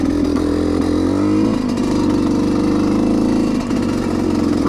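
A dirt bike rides tight single-track trail at a hare scramble course, its engine droning loud and close and rising and falling in pitch as the rider shifts and works the throttle.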